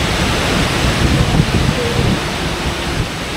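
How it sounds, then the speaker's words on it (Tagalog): Waterfall at Lake Sebu, a dense, steady roar of falling water with a heavy low rumble, constant and near throughout, with no voices. "na ito yung tunog na falls pare"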